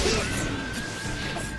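A guard break hit lands with a sharp crash at the very start during a Naruto Storm 4 tournament match on PS4. Broadband game noise and effects continue steadily after it.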